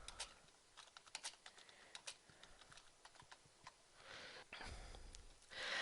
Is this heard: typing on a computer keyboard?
yes